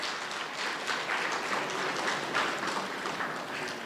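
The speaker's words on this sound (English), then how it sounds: "Let's give another round of applause to Shruti on such a beautiful performance." A hall audience applauds after a Bharatanatyam arangetram dance recital, a steady wash of many hands clapping at moderate distance for several seconds, no talking over it.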